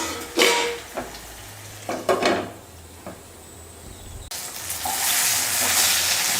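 Brinjal frying in oil in a pan, with scraping stirring strokes and short clatters, then a loud steady sizzle that swells near the end.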